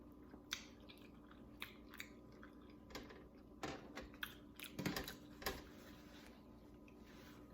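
Someone bites into and chews a birria taco with sauce, producing close, quiet, irregular crunches and smacking bursts against a faint background, with no speech.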